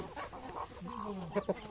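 At the Palani Murugan temple, a rooster gives a soft run of nearby clucks ending in two sharper clucks, with no talking over them.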